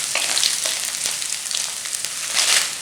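Pepper, chili and ginger fry in a pan with a bright, hissing sizzle that rises and falls, punctuated by small crackles, close and without talking.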